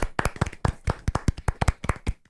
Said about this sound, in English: That's a golf clap.